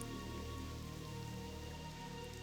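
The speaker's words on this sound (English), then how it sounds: "We've got this cozy rain." Steady rain in World of Warcraft Classic, heard from inside a night elf inn, a soft, constant patter with a faint musical tone underneath, quiet and unbroken throughout.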